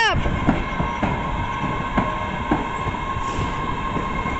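An MBTA subway train rumbles past JFK/UMass station with a steady mechanical roar, sharp periodic clanks from the wheels over rail joints, and a high whine running throughout.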